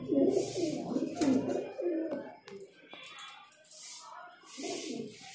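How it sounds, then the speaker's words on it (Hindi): A pigeon at a pigeon shop in Delhi gives soft, low, rolling coos in short bursts, close by and fairly quiet, with light background noise. "ये कबूतर है गाइस"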